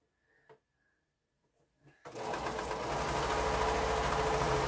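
A sewing machine runs steadily at close range, stitching quilt pieces together in one continuous whirring burst after a few quiet handling knocks.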